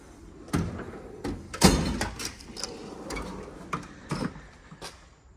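Drawer of a Snap-on 72-inch Master Series toolbox holding pliers, cutters and strippers, sliding with a series of sharp clicks, clacks and knocks over about five seconds, close and moderately loud with no talk.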